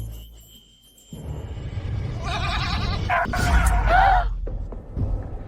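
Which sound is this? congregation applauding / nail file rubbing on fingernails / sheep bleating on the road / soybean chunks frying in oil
sheep bleating on the road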